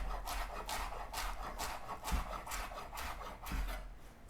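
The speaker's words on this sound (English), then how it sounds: "And I'm just gonna give it a rough chop." A knife roughly chops cilantro on a board, producing a quick, close run of soft rhythmic chopping taps with a couple of heavier thumps, fairly quiet throughout.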